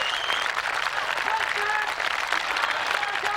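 Crowd cheering and shouting at a strongman competition during a Husafell stone carry, a continuous roar of voices with scattered whistles and calls, fairly distant and steady for a few seconds.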